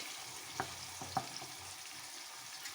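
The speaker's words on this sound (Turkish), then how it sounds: "Şöyle de tekrar soğanla yağı kavuracağım" Onions frying in oil in a pan give a quiet, steady sizzle, broken by a couple of soft taps of a utensil against the pan.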